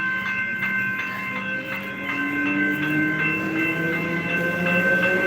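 A train rolls steadily past close by, loud throughout, with sustained whistling tones and a low rumbling roar, sliding pitches and faint clatter from the wagons. No one speaks.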